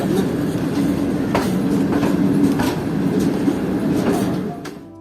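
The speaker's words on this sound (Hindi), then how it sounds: "आहिस्ता आहिस्ता हमारी ट्रेन अल्लादीनुसान रेलवे स्टेशन की लूप लाइन से गुजरी" A train rolls slowly through the loop line at Allahdinusan railway station, steady close rumble with rhythmic wheel clacks and occasional squeal over the track joints.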